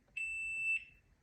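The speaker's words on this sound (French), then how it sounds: "Pour activer le buzzer, il suffit de faire un appui long et vous allez voir qu'à 1 seconde, ça va sonner." A ShotClock Poker timer sounds a single high, pure electronic beep that holds steady for just under a second and then stops, loud against near silence.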